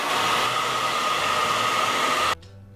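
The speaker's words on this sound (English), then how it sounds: "you can always put it back over the hairdryer, and you can use the hairdryer on your fingers too" A hair dryer blows steadily and loudly up close to warm moustache wax, then cuts off abruptly, leaving near silence.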